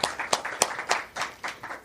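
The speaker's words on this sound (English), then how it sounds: "I always like to do a second round of applause." Scattered hand claps from a small audience at a poetry reading, a brief, light round of applause with individual claps distinct.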